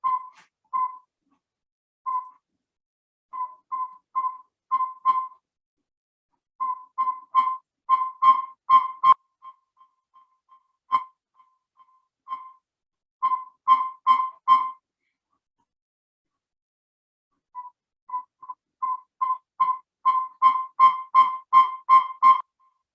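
Recorded owl call played back: a repetitive series of clear whistled notes in bursts, some slow and spaced, others faster and accelerating, with brief pauses between runs and no talking.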